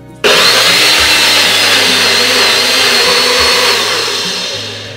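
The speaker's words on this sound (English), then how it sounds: "We're going to add the rest of the onions to this mixture and blend it until it's smooth." A blender whirs loudly and steadily, pureeing onions into a sambal paste, starting abruptly and running continuously with a slight drop in intensity toward the end.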